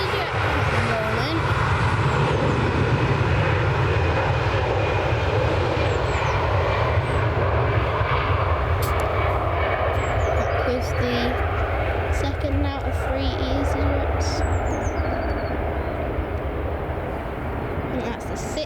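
Jet airliners such as a Boeing 737-8 and an EasyJet jet departing Manchester Airport in early morning, a steady loud broadband engine roar throughout with a person talking over it.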